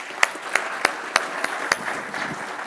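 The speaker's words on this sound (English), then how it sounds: "Another round of applause for Scott." A conference audience at a mining technical summit gives a speaker a brief round of applause: a handful of sharp, distinct claps stand out over a soft wash of scattered clapping that thins and fades toward the end.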